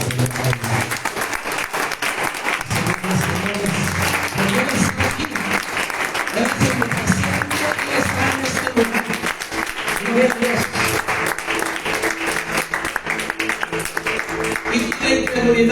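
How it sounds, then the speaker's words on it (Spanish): Strong, sustained audience applause fills a church service, thick overlapping clapping with cheers and voices woven through, loud and steady for the full length. "dale un fuerte aplauso"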